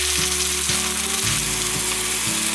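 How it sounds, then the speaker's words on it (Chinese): Tofu pieces frying in oil in a pan, turned so the second side browns, give a continuous close, loud sizzle with no talk. "翻面之后，再让它继续煎，另一面也让它煎至金黄色。"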